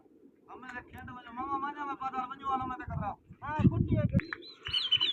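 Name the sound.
pigeons flying in a pigeon competition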